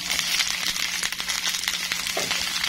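Onions hitting a hot pan of browned garlic and ginger, a steady close sizzle with frying crackle and light stirring scrapes throughout, no voices.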